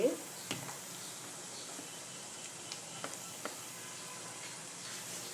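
Onion fries to golden in a pan for a Marathi vegetable dish, producing a soft, even sizzle and hiss with a few scattered crackles, heard up close.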